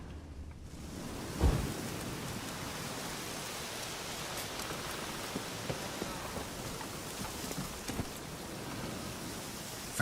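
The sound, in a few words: rain and thunder in a video game (The Witcher 3: Wild Hunt)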